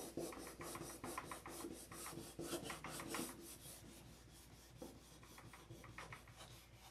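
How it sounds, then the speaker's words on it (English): Wood is sanded by hand in quick, repeated rasping back-and-forth strokes, steady and fairly close, with brief pauses in the rhythm. "We'll just get it sanded."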